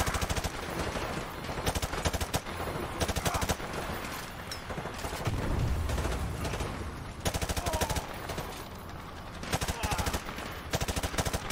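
Dense automatic gunfire and explosions from the Modern Warfare 2 Remastered campaign, continuous rattling bursts filling the whole stretch, loud and close.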